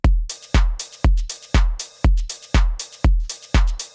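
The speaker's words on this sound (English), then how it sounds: "then a load of different hi-hats which sound like this together." Layered house drums: steady kick thumps every half second with several hi-hat patterns ticking and shuffling between them, bright and busy, played loud with no talking.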